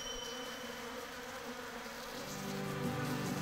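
An Asian giant hornet buzzes around a beehive, a faint, continuous insect drone mixed with the hum of other bees close by.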